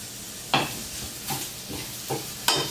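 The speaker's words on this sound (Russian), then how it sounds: "Ту же сковородку, где мы обжаривали овощи, добавляем грибы без масла." Mushrooms fry without oil in a pan previously used for vegetables, with a soft continuous sizzle broken by several sharp scraping stirs at irregular intervals, close up.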